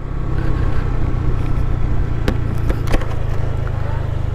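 A Honda Click V3 scooter with stock setup and 14-gram rollers pulling away, its engine a steady low drone with a few sharp clicks and knocks over the top, close and loud throughout.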